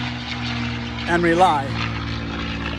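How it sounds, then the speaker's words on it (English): An airplane flies overhead, a steady droning engine hum that swells and fades, heard under someone speaking continuously. "Sorry for that plane going over."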